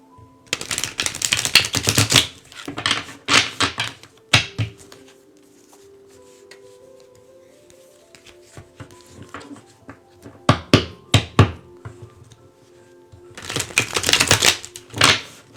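Tarot cards being shuffled in bursts of rapid riffling and tapping, separated by quieter pauses, with a final shuffle near the end; close and fairly loud.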